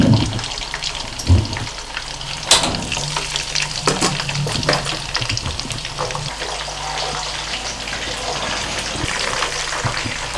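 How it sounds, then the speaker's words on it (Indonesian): Headless catfish fry in hot oil, a dense, continuous sizzle and crackle with occasional louder pops and utensil clatter near the start, loud and close with no talk. "kita goreng ikan lelenya"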